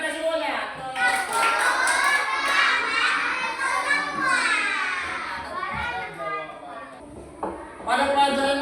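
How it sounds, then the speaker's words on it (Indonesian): Classroom of children breaking into applause at a teacher's prompt, dense clapping mixed with lively kids' chatter and shouts throughout, briefly thinning near the end before picking up again. "Tepuk tangan kita semuanya."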